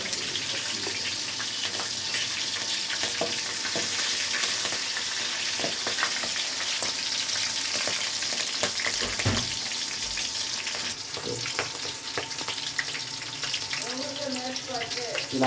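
Green chillies frying in hot oil in a pot for a Sunday chicken curry, giving a continuous dense sizzle with scattered pops and stirring clinks, and a brief voice near the end.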